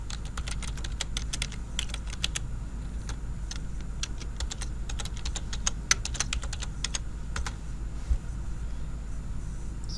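Rapid keystrokes on a computer keyboard, fast irregular clicks in bursts over a steady low hum, close and moderately loud, with no voices.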